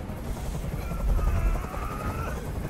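A helicopter in the video game Detroit: Become Human gives off a steady, rumbling rotor drone with heavy low-end throb that swells slightly midway through, continuous and fairly loud with no voices over it.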